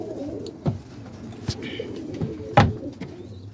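Pigeons, including lace and bald-head birds, cooing inside a loft, with soft low coos and a few sharper flutters or knocks scattered through a quiet background.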